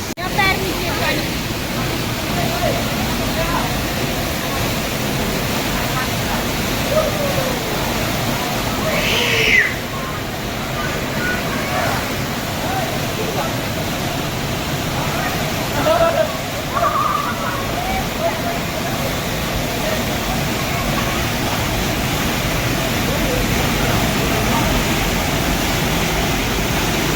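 A waterfall in Himachal Pradesh pours in a loud, constant broadband rush that fills the whole scene, with faint brief voices of people nearby partly buried beneath it.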